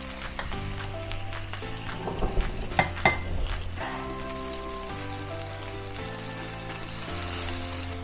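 Spatula scraping caramelized onions off a hot pan while salmon sears with ginger and garlic, a few sharp scrapes and clinks over a soft frying hiss, with a low steady hum underneath.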